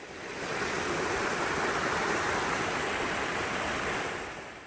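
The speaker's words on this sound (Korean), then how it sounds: "가는 내내 계곡 물소리가 즐거웠습니다" Steady rushing water of a mountain valley stream running beside a forest deck trail through fir woods at Odaesan, a continuous broadband flow, fairly close and even throughout, with no voices.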